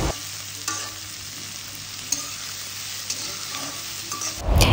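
Chopped onions sizzle in hot oil for a bhindi masala, a steady close frying hiss with a few light stirring taps, swelling into a louder burst of sizzle and scraping at the end; no one speaks.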